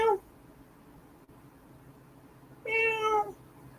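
A cat meows twice, with one short call at the very start and a longer, clearer meow near the end, separated by quiet near-silence.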